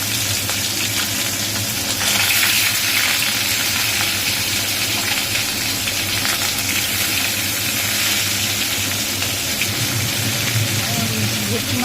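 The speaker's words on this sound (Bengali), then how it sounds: "দেখো বন্ধুরা, তেলটা হয়ে গেছে, এবার মা মাছগুলোকে ছেড়ে দেবে।" Bhetki fish coated in salt and turmeric fry in hot oil with a steady, loud sizzle throughout, while a voice talks over it.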